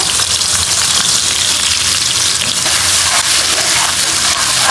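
Chopped onion frying in a hot pan, a loud, dense, steady sizzle crackling throughout at close range with no voices.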